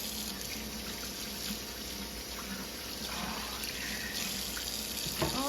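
Running tap water splashing in a sink while measuring spoons and cups are washed, a steady close rush with occasional small clinks and shifts in flow.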